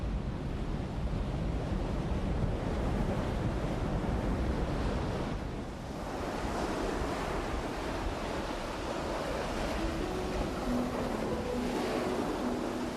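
Sea waves surge and wash continuously in a broad, steady roar, with wind rushing across the microphone and a faint tonal hum appearing near the end; no one speaks.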